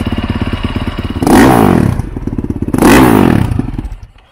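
A 2020 Honda 450 RX motocross engine rattles at idle close by, then revs hard twice in sharp bursts and drops back between them, loud and up close.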